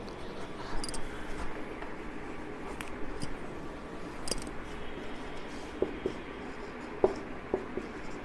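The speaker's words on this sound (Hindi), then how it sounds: "साफ लिख देता हूँ थोड़ा" A teacher writes on a board during a Hindi grammar lesson, with faint scratchy strokes and occasional soft taps, steady and close, and no talking over it.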